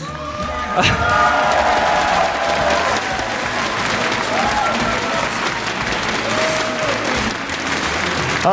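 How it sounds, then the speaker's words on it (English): A large crowd at a StarCraft II esports championship applauding loudly and continuously, with scattered cheers and whoops rising through the clapping. "please give one more round of applause to our production team"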